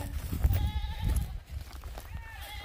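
Goats bleat on a small Jamaican farm, with several wavering nasal calls overlapping close by in quick succession under a rustling outdoor background.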